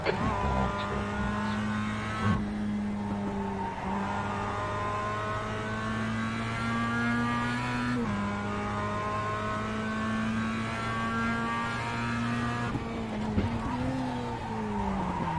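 In a video game, a race car runs off track onto grass, its engine revving in sustained tones that repeatedly drop and climb as it skids and spins out, tires squealing in bursts, with no voices.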